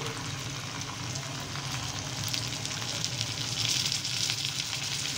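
A ground spice paste of cumin, ginger, garlic, turmeric, chili, coriander and salt fries in oil with a dense, continuous sizzle that holds steady and swells slightly toward the end.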